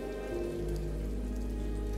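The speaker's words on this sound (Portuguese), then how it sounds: "Foi nessa hora que começou a chover." Steady rain patters in the video game Ender Lilies, a constant wash of falling drops with a low background tone and no voices.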